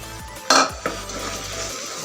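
Utensils clink and scrape against a pot while tamarind pickle with ground spices is stirred, with one sharp knock near the middle and a softer scrape after it, close and fairly loud with no talking.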